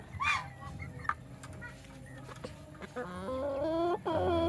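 A seven-month-old Rhode Island Red cross rooster crows loudly near the end after a few soft clucks and scattered farmyard noises at low volume, on a small farm.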